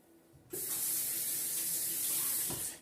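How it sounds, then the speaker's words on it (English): A kitchen tap turns on and runs steadily as ginger is rinsed under the stream, a close, constant rushing splash that continues for a couple of seconds before easing off. "Now I'm going to rinse it and peel it."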